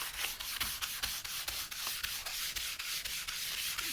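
Sandpaper works along the grain of a wooden custom Fender Mustang guitar body in steady back-and-forth strokes, a close, rhythmic rasping with no talk.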